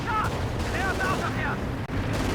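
Rapid gunfire and rocket blasts from a strafing run in Company of Heroes 2, heard as a dense, continuous loud barrage of booms and crackling shots under someone talking.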